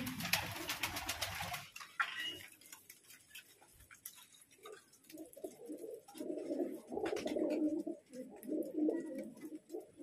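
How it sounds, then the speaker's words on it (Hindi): Domestic flying pigeons coo softly in repeated low, throaty phrases, preceded by a short burst of clattering noise; the cooing continues close by in a quiet setting. "ये देखिए कबूतर"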